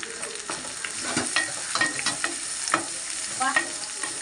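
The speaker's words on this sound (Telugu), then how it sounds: "ఉల్లిపాయలు వేసేద్దాం. 3 ఉల్లిపాయలు, పచ్చిమిరపకాయలు కలుపుకుందాం." Onions and green chillies frying in oil for a prawn curry, with steady sizzling and repeated stirring scrapes and clinks from a utensil, close and moderately loud with no talking.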